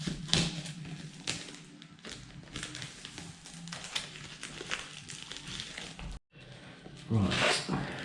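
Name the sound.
knife cutting open a watch box's packaging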